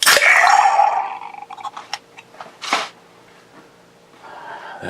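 A Left Hand Brewing Pumpkin Spice Latte Nitro beer can cracks open with a loud hissing, sucking rush of gas, followed by faint clicks, a second short hiss and a soft trailing pour.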